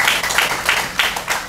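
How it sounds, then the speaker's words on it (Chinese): Brief rhythmic group clapping at a Keelung gathering of police officers, firefighters and volunteer helpers, with several evenly spaced bursts of hand claps in quick succession from a crowd. "请大家自己给自己一个掌声"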